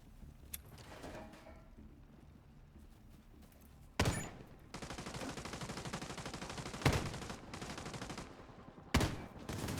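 Video game gunfire: a quiet stretch, then a sudden burst leading into sustained rapid automatic fire, with a few louder individual blasts, moderately distant and heard without talking.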